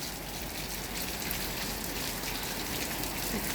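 Steady rain falls outside by a garden full of plants, heard from near an open door as an even, continuous hiss that holds at a constant level without voices.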